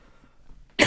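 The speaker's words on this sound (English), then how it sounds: "I'm like starting to like cough seriously right now." Someone coughs in a dusty room: one short, loud cough bursts out near the end after near-silence.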